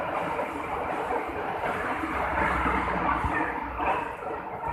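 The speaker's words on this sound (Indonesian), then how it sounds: "ada kereta yang lewat tapi tidak kelihatan ya" A train rumbles steadily past nearby, a continuous low roar with faint rattling, no voices.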